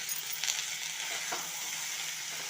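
Paruppu usili, a lentil side dish, sautéing in a little oil in a pan, a steady close sizzle with light stirring scrapes throughout.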